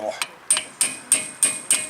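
A steel hammer taps on the front brake assembly of a 2017 Honda Civic during a brake job, making six sharp, close metallic knocks in a quick, even rhythm.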